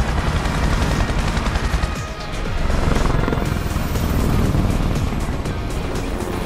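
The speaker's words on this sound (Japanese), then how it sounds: "なんかヘリコプターか、これは" A helicopter in the Yakuza 6 video game drones loudly and continuously, a dense rotor and engine roar filling the scene with rattling mechanical texture and possible gunfire mixed in.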